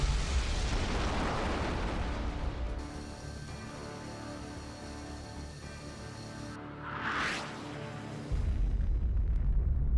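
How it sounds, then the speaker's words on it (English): A large explosion in the Resident Evil: The Darkside Chronicles video game on PS3: a loud, sustained rumbling blast that dips for several seconds with a rising whoosh, then surges back into heavy roaring noise. "Well, look at that explosion."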